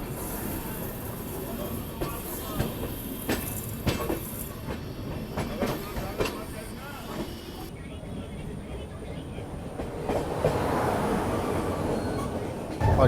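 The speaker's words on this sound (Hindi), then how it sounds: "और ये मेरे ख्याल से दुर्गियाना एक्सप्रेस है जो अभी क्रॉस हो रही है।" The Durgiana Express crosses by on the rails, heard from aboard another moving passenger train as a loud rumble with sharp wheel clatter and rattles, then a rising roar, with some voices in the background.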